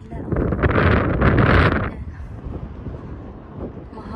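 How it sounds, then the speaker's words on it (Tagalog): Strong wind buffets the microphone outdoors, a loud rumbling gust for about two seconds that drops to a lower, steady blustering. "Mahangin"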